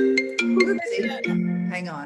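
Mobile phone ringtone playing as a short repeating melodic chime while someone speaks briefly over it.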